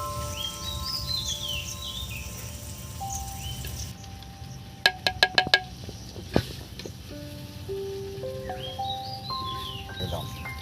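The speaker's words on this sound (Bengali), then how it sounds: "বিভিন্ন রকম পাখি বিভিন্ন রকম ডাকে," Birds sing outdoors in thin, high warbling phrases spread across a steady background hiss, moderately near, with a few sharp clicks and knocks partway through.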